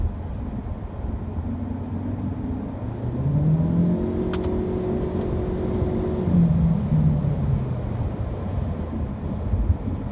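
A 2018 Ford C-Max hybrid engine hums steadily, then its pitch climbs smoothly as it accelerates, slightly raspy, a muted drone heard from nearby inside the well-insulated car.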